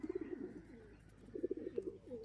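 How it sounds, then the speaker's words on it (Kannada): Male pigeons readied for release in flight training coo softly in two short bursts, a throaty, bubbling cooing at moderate distance with a quiet pause between, no voices. "ಈಗ ಬರ್ಡ್ಸ್ ಆಗಲೇ ಹಾರಕ್ಕೆ ರೆಡಿ ಇದ್ದಾವೆ"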